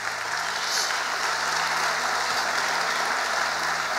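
Church congregation applauding in praise during a sermon, a soft continuous rush of distant clapping with a faint steady hum beneath it.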